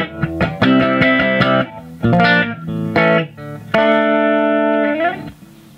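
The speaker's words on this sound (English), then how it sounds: "This is the clean signal." Clean electric guitar chords from a Gordon Smith G60 ring through an Orange Rockerverb 50 amplifier, strummed in several bursts with sustained, bright harmonic tones and short pauses between phrases.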